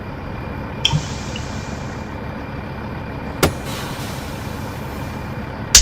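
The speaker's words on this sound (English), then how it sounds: "So that air hiss you heard was my, the parking brakes going on." Air brakes on a truck in American Truck Simulator let out a hissing release over a steady low engine idle, with a few sharp clicks and thumps spaced through the scene.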